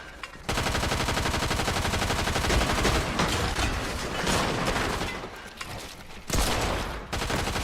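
Rapid bursts of gunfire rattle through a competitive Fortnite match, loud and near, continuing for several seconds with short pauses and heavy repeated shots.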